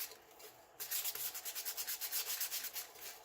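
Sandpaper is rubbed around the top and bottom edges of an epoxy-coated glitter tumbler, giving a faint run of quick, rhythmic scratching strokes close by with no talking.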